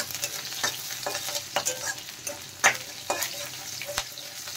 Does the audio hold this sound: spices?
yes